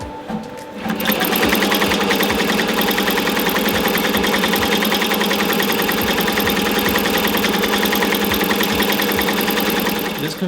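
A Meistergram GEM 1500 TC embroidery machine stitches, a fast, steady mechanical chatter with a rapid repeating needle rhythm, loud and close, starting about a second in and running continuously.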